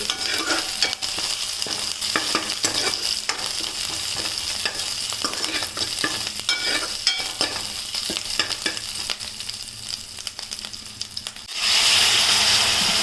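Loud continuous sizzling and frying of onion tempering with steady stirring scrapes, ending in a sharper burst of hiss as bottle gourd and chana dal curry is poured in.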